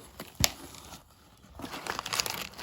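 Packaging from a Birmingham Pen Company ink order being unwrapped by hand, with a sharp crinkle-and-tear burst near the start, a quiet pause, then a longer run of soft crumpling rustles close by.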